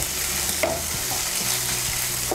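Chopped tomato goes into a pan of frying onion with ginger and garlic paste, giving a steady close sizzle with scraping stirs and a few brief clinks, no voices.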